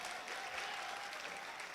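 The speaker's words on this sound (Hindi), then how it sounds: "अब तालियां बजाओ जरा जोरदार।" An audience at a kavi sammelan poetry gathering in Gandhi Hall applauds, a continuous, even patter of many hands, fairly faint and steady throughout.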